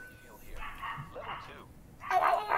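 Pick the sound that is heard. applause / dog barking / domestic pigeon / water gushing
dog barking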